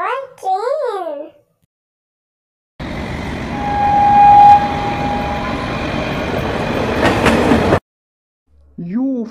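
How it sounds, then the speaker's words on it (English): A passing train rumbles steadily for about five seconds with a faint whistle-like tone and clacking near the end, loud and close, set between short bursts of a child's sing-song voice. "T for train"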